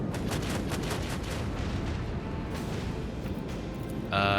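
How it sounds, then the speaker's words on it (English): Starship weapon batteries fire a salvo in the space battle of Warhammer 40,000: Rogue Trader, a heavy, booming, rumbling barrage that rolls on continuously before a sharper tone cuts in at the end. "Launch batteries, fully."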